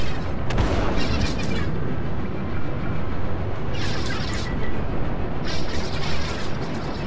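Countermeasure flares launched from a ship in the Star Citizen video game, a continuous loud roaring rumble with repeated bursts of hiss-like crackle layered on top, no voices over it.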